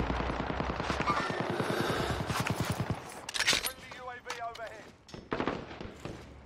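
Gunfire crackles in the video game Warzone, with a fast rapid-fire burst rattling through the first three seconds and scattered sharper shots afterward, while players talk over it.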